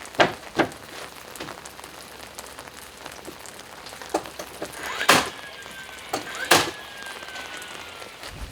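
Rain patters onto a hard surface during a spell of wet weather in rural France, with scattered heavier drops landing irregularly over a steady soft hiss and no voices.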